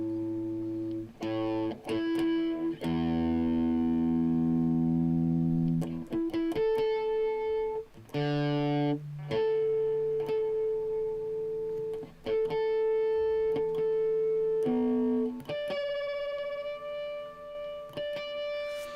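An electric guitar tuned through heavy distortion: sustained notes waver and beat roughly, then settle into clean steady tones, with pauses between plucks.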